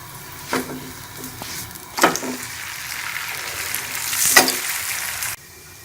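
An aloo paratha sizzles in oil on a pan, with a steady frying hiss and a few louder crackling surges as it is turned and pressed.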